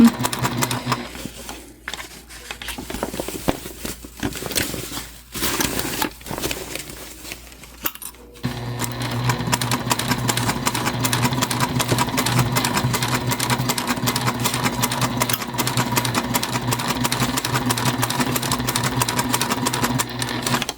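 A Juki TL2 sewing machine stitches the top seam of a drawstring backpack, starting with short intermittent bursts and then running in one long, steady, close stretch of continuous stitching.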